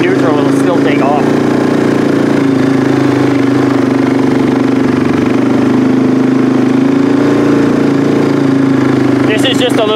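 Small 250 two-wheel-drive ATV hauling a load of logs up a hill: its engine runs with a steady, loud, mid-pitched drone throughout, with short bursts of other noise at the start and end.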